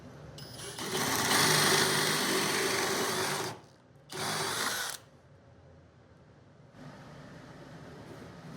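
A power drill boring mounting holes for a vise on a 2x4 workbench: one long steady whine of about three seconds, then a shorter second burst, followed by a quieter hum.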